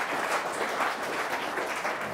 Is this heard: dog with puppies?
no